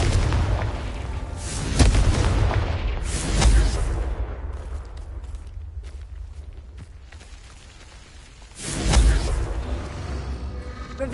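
Confringo blasting spell in Hogwarts Legacy, several loud booming explosions a couple of seconds apart, each with a deep thud and a crackling tail, with a quieter stretch between the final blasts.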